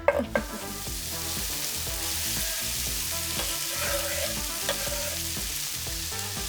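Peppers for shakshuka hit a hot pan with a loud initial crackle, then settle into a steady, close sizzle with stirring scrapes.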